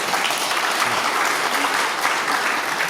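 A citizens' innovation forum audience in Pocheon breaks into applause, a dense, loud and continuous round of clapping from a crowd that fills the room throughout.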